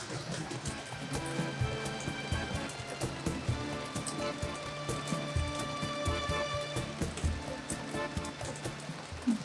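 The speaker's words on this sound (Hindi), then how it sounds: "बहुत सारी बारिश हो रही है।" Heavy monsoon rain in Mumbai pours steadily and loudly close by, a dense continuous wash with constant patter and splashing throughout, no voices over it.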